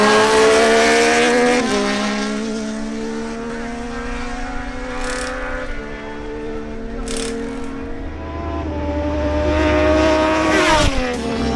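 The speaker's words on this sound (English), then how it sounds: "Next, Albeiro Orozco on his Yamaha MT-09 faces Martin Correa on his Kawasaki Ninja" A Yamaha MT-09 and a Kawasaki Ninja Z1000SX launch down a drag strip, their engines howling loud and close as they climb through the gears in rising, stepping pitches.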